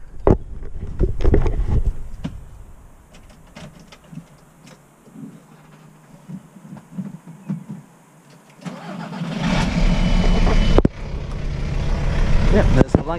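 VW T5 camper van engine cranks and fires up, then settles into a steady running rumble that swells louder toward the end, heard close by with a few brief gaps and no speech over it.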